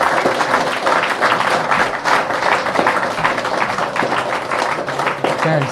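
A small audience claps after an LZX Industries product demo, a brisk scattered patter of hands at moderate volume lasting several seconds, fairly close and without talk.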